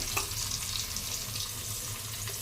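Fish frying one by one in hot oil, a steady broadband sizzle with faint crackles and pops, close and continuous with no talking.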